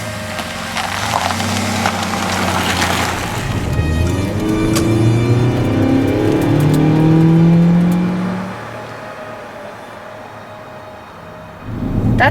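A car revs and accelerates away, its engine rising in pitch through several gear changes, loud and close at first and then fading into the distance.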